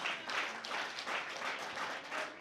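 A church congregation claps in rhythmic pulses, roughly in unison, the hand claps moderately close and steady.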